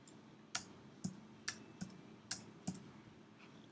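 Someone types zeros on a computer keyboard while working in 3D modelling software, six or seven sharp, separate keystroke clicks spaced about half a second apart, close and quiet, with no talking.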